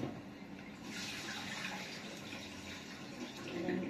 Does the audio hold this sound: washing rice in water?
yes